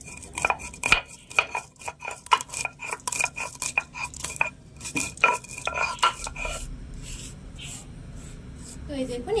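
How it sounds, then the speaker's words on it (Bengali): Black peppercorns are crushed on a stone grinding slab (shil-pata), giving irregular sharp knocks and scraping clicks in bursts. The sounds are close and moderately loud, with a quiet room behind them. "গোলমরিচগুলো একটু আধা ভাঙা করে গুঁড়ো করে নিতে"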